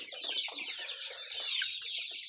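A flock of young black chicks, nearly three months old, clucks and peeps continuously at close range, a dense, high-pitched chorus with no voices.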